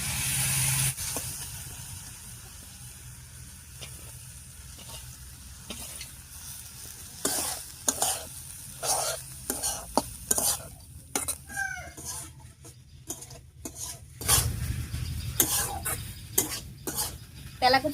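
Ivy gourd leaves and spiced potatoes are stirred in a frying pan, with a steady sizzle under repeated scraping and clattering strokes of the spatula against the pan, close and irregular, with no speech.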